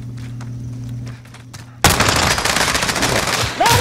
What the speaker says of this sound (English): he's shooting at us, but he missed every shot